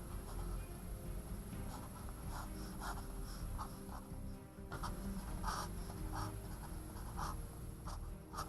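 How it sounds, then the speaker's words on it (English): A pen sketching a small skyline scene on paper, giving short, scratchy strokes in an irregular rhythm, close but soft over a constant background hum. "I'm sketching just a little skyline scene here."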